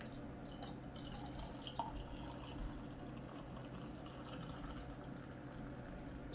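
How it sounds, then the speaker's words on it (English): Tusker African Lager beer poured into a glass, a faint, steady trickle of liquid with small drips running for several seconds and no talking. "Check this pour out."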